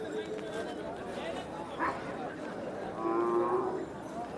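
Devni breed bullocks at a busy bullock market, with a low moo and a longer bellow rising over steady crowd chatter and nearby talking.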